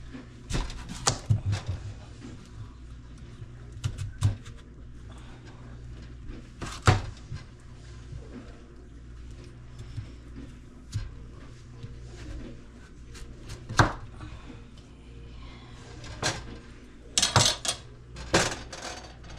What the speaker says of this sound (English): What I'm going to do is cut these up just a little smaller.